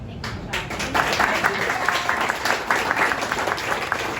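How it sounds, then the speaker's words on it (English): Applause from an audience at a local political group's meeting, steady clapping sustained throughout at moderate loudness, with some voices mixed in. "And we owe the Inclusion Committee a round of applause for all the hard work and persistence"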